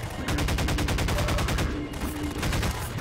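Rapid automatic gunfire from a weapon in the video game Half-Life 2, a loud, steady stream of evenly spaced shots filling the whole stretch with no pause.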